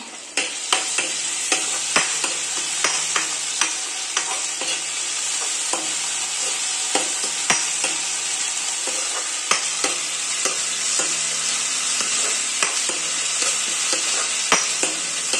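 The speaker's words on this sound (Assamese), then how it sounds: "দেখিছে তেলটো ফুটিছে।" Garlic-ginger paste fries in hot oil for a taro and fish curry, making a loud, dense, continuous sizzle. Sharp spatula clicks against the pan recur throughout, and no one speaks.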